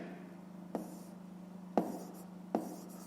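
Three separate soft taps of chalk against a board while numbers are written during a fifth-grade math lesson, spaced about a second apart over a low steady hum.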